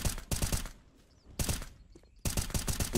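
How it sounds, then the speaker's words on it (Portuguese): Three bursts of rapid gunfire in Counter-Strike, each lasting about half a second, separated by short quiet gaps, loud and close. "O Cello ainda tomou uns tiros lá do Rain"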